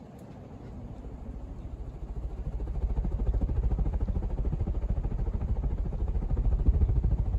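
A 1980 Casablanca Zephyr ceiling fan in antique brass and antique white runs at full speed, giving a steady low whirring hum that swells after a couple of seconds and then holds, with no voices.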